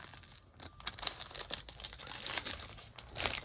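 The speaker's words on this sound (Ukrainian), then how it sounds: "Зразу беремо наш пакетчик. Тут є відкривашка." A parchment packet of collectible design cards being torn open, with crinkling and ripping of the paper wrapper in short, close bursts that come and go over a few seconds.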